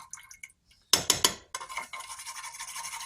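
Metal spoon clinking and scraping in a container of melted wax, a few light taps followed by a quick burst of three sharp strikes and then continuous scraping stirring, close and quiet.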